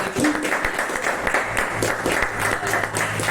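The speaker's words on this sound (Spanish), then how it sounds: "es para que le demos un fuerte aplauso al Señor" A church congregation claps together in gratitude, loud rhythmic applause with distinct hand strikes, close and lively, with a low hum and brief voices underneath.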